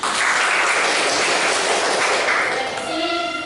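A classroom of students applauds in dense, steady clapping that fills the room and stays loud, easing slightly near the end as a few voices come through.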